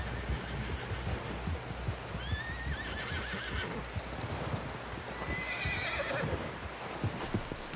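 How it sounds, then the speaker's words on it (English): Horse hooves clip-clop rhythmically as a horse neighs in Red Dead Redemption 2, with game-like sound effects and no speech. "Someone help John down off this horse"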